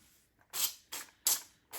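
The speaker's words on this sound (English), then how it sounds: "I'm going to go back in with my olive oil spray and just give them a little blast." Olive oil spray misted over bagels on a baking tray, heard as four short, close hissing bursts spaced roughly evenly, each sharp and airy with quiet gaps between and no talking.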